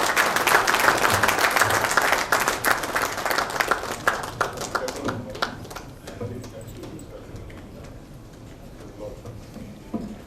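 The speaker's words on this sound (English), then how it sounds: "Please give a bigger round of applause, ladies and gentlemen." Applause from a seated audience at an industry association's annual general function, loud and dense for about five seconds, then thinning into scattered claps and fading to quieter room noise.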